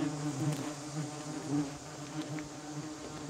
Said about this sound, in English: That is an actual wasp crawling on my lens while I was walking away with the camera.